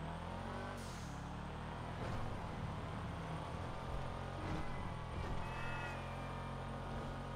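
The Sultan RS car's engine in GTA Online drones loudly and continuously, rising and falling slightly with throttle, heard up close with no voices.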